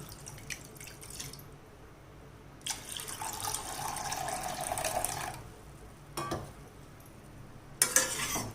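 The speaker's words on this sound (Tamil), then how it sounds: "இப்போ இது முழுகிற அளவுக்கு தண்ணி ஊற்றிக்கலாம்" Water poured into a pot of roasted moong dal for payasam, a steady splashing pour lasting about two and a half seconds, framed by short metallic clinks and a final clatter in a quiet kitchen.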